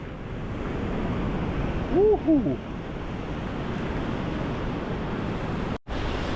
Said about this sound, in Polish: ten ocean fajnie szumi